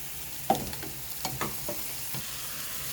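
Garlic and onion frying in a home pan with a steady sizzle, broken by a few sharp stirring scrapes and clatters near the start and middle.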